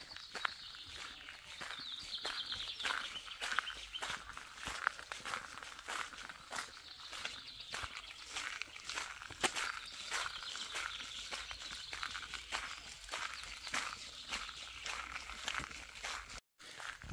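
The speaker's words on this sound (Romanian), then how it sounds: "Mergem prin sunet de păsărele" Small birds chirp and tweet through a conifer forest on an Azores island while footsteps crunch steadily along the trail, the bird calls light and scattered over the continuous rhythm of walking.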